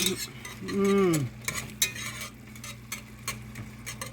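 Onions, celery and garlic sauté in a soup pot with a light sizzle, while a spoon scrapes and taps against the pot in irregular strokes up close. A brief tonal whine sounds early on.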